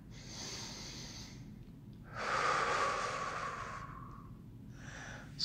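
A person takes a deep breath in, then lets out a long, slow, audible exhale while holding a seated yoga twist. The breathing is close and is followed by another short breath.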